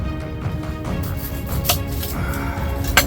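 A small knife chops an onion on a cutting board for venison chili, giving a run of irregular light taps and cuts at close range with a couple of sharper knocks.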